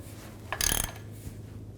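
An 18mm socket on a ratchet gives a brief, quiet burst of clicking while tightening a castle nut on a ball joint stud, fitting a front passenger lower control arm on a 2011-2014 Chrysler 200. A low steady hum sits under it.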